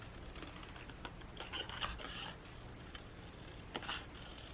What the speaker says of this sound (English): So I'm just going to go around this circle.